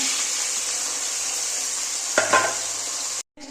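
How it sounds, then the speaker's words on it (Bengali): Onions and green chillies frying in hot oil before chicken kosha is made, heard as a steady close sizzle with a brief clatter of utensils near the end, then a short silence. "তেলটা গরম হয়ে গেছে, পেঁয়াজ আর কাঁচা লঙ্কাগুলো ভেজে নেব"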